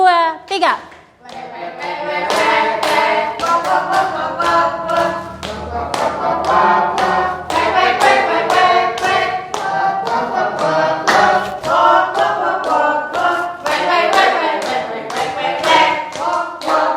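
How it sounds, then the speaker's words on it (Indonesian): A group led by a teacher claps together in rhythm, sharp repeated hand claps close by mixed with voices chanting or singing along throughout. "Tepuk tangan semua"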